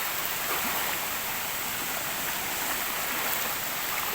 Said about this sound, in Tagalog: Patawid na naman kami ng ilog, mga katropa.